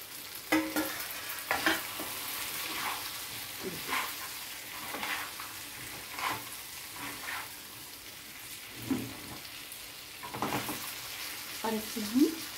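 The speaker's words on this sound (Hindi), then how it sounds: "अब हम इसमें बचा हुआ जो हमारा सूखा मसाला रखा है वो इसे मिक्स कर देंगे और इसे बस 2 मिनट चलाएंगे" Stuffed eggplant and potato curry with dry spice mix is stirred in a pan, spoon scrapes and clacks coming in irregular bursts over a soft, continuous sizzle, close by.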